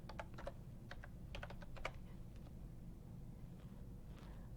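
Quick bursts of keystrokes on a computer keyboard as equations are typed, clustered in short runs over the first two seconds and then tapering off against a low steady room hum.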